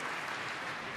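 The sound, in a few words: snooker crowd applauding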